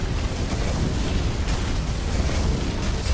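Dense, continuous low-end rumble with crackling noise, like a sustained explosion in Tainted Grail roaring steadily without pause.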